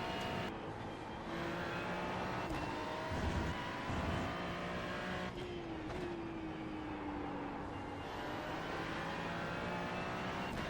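A Porsche race car in a racing video game runs onto gravel, its engine holding a loud, continuous drone with gliding pitch shifts and a rough, noisy bed throughout; no voices.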